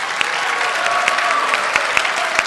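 A convention audience at a My Little Pony writers panel breaks into applause, a dense, loud wash of clapping with a few sharp individual claps and faint cheering, no speech over it.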